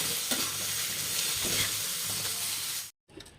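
Steady sizzling and crackling of tomato frying lightly in hot oil with occasional stirring scrapes, close up, cutting off abruptly near the end.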